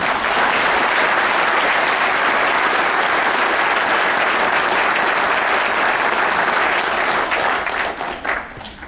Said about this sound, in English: So if we can give these guys a little round of applause.